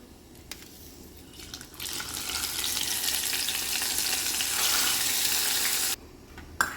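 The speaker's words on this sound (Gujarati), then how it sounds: "હવે આપણે આ જે વઘાર છે એ નાખી દઈશું કઢીમાં" Hot oil tempering with dry cumin, curry leaves and dried red chilli poured into kadhi, giving a loud bright sizzle that swells for several seconds and then cuts off abruptly, with no talk.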